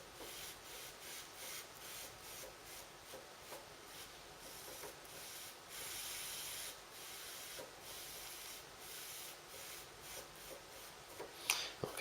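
Soft, even rubbing strokes pass back and forth across a knife blade during hand etching, a faint rhythmic scrubbing texture repeating steadily at close range with no voices.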